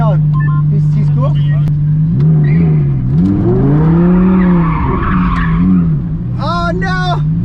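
A Lamborghini at the Crown Rally doing a donut, its engine droning and revving while the tires squeal and skid in long sweeping arcs, close and loud with people talking throughout.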